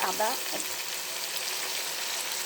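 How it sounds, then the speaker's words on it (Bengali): Chicken frying in a pan with sour yogurt added, a loud continuous sizzle close by with a short voice at the very start. "চিকেনটা কিন্তু একদম ভাজা ভাজা হয়ে গেছে।"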